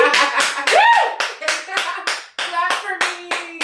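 An audience claps for a poet during a live performance, with steady, evenly spaced claps close to the microphone and voices calling out over the rhythm.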